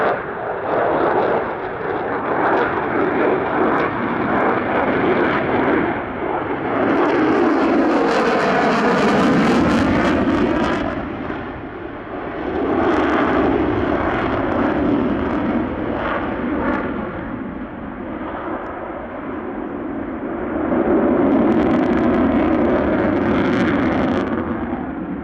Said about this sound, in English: it will be the RAAF's primary fighter aircraft for many years to come.